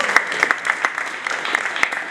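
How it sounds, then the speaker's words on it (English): Scattered clapping from a small audience at a stand-up comedy show, with distinct individual claps in an uneven rhythm over a quiet room. "Round of applause for the first ever lesbian in Fishbowl stand-up history."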